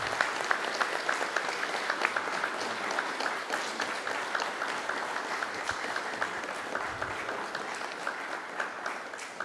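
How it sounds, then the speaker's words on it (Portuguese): A steady round of applause fills a solemn session at a municipal chamber in Itapira, many hands clapping evenly at a moderate distance, continuous throughout with no talk over it. "Então, eu peço uma salva de palmas a todos."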